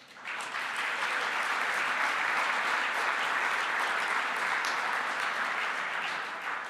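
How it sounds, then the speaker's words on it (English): Sustained applause from a gala audience in a banquet room, a dense steady wash of many hands clapping at full level for the whole stretch after a brief onset, with no talk over it. "Give yourself a round of applause."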